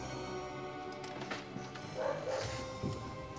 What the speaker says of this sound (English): What are you barking at, dogs?